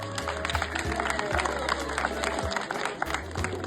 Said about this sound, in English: I think the president deserves a round of applause